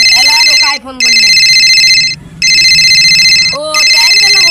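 A telephone rings in steady electronic bursts, loud and continuous with two brief gaps, while someone speaks over it in a Rajbanshi household setting.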